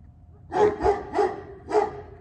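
A dog barks four times in quick succession at close range, loud and sharp, with a short gap before the final bark and no talking over it.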